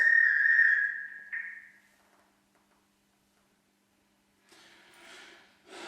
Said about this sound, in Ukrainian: Піднімається трубка на факс.